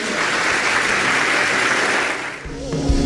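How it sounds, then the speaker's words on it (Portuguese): A church congregation at a pastor's symposium breaks into applause, a thick, steady roar of clapping that fades after about two seconds as a low tone comes in beneath it. "Aplauda o Senhor, pastor."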